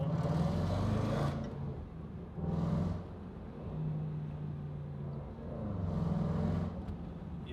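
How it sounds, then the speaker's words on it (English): A supercharged 5-liter V8 Range Rover Sport SVR accelerates hard in traffic, its engine rumbling loud and close in a few rising surges that fall back between throttle pushes, with no talk over it. "Now let's hit the gas a little bit more."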